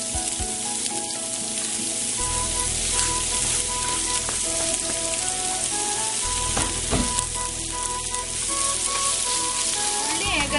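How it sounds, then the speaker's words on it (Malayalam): Sliced onions deep frying in hot oil for a Malabar-style prawn biryani, a loud, steady, dense sizzle that runs unbroken throughout, with occasional faint clinks and no talk. "ഉള്ളി ഏകദേശം ഫ്രൈ ആയിട്ടുണ്ട്. നന്നായി ഡീപ് ഫ്രൈ ആയിട്ടുണ്ട്."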